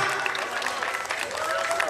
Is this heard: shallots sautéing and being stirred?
no